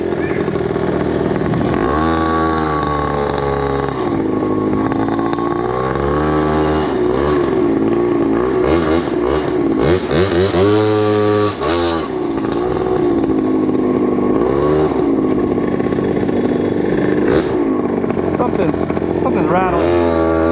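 A Honda Dio 120cc stroker scooter engine revs and drones loudly on a test ride, its pitch rising and falling in repeated surges, with someone talking over it.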